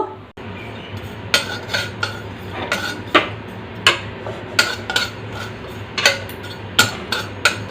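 A metal spatula scrapes and clinks against a hot wok while dry roasting sesame seeds, a steady series of sharp strokes, close up, over a low background hum; no one speaks.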